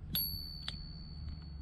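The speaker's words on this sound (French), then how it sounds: "La petite sonnette qui est incluse" Small built-in bell on a Kaabo Mantis electric scooter rings in two sharp, bright dings close by, followed by a couple of fainter taps, with a quiet background.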